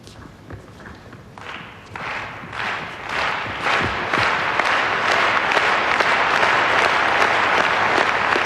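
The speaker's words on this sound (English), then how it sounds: "Crowd trying to rally the teenager." Tennis crowd at a women's quarterfinal, applause swelling from scattered claps into a loud, dense roar with cheering, building steadily and holding strong to the end.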